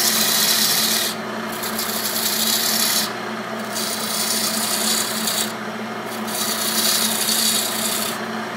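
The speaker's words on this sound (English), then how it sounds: "Start hollowing some of this out right here in this center section." A gouge cuts into the center of a small wooden candle stand spinning on a lathe, producing a steady, loud rasping scrape that swells and dips in repeated passes a couple of seconds apart.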